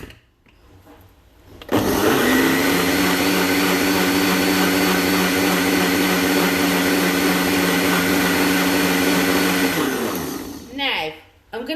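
A kitchen blender whizzes lasagne sauce ingredients: a loud, steady, high whirring roar kicks in abruptly, holds evenly for several seconds, then winds down and cuts off.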